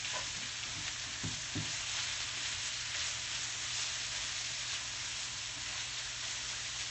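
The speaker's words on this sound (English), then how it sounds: "just kind of let it simmer and keep stirring it" Cabbage simmers and sizzles in a pan with a soft, steady frying hiss, and a few stirring scrapes and knocks come early on. The sound is fairly quiet and continuous, with no talking.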